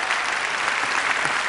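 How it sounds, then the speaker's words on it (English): An audience at a talk about art and search breaks into steady, dense applause that fills the whole moment, close and continuous, with no voices over it. "you could hold your applause till later"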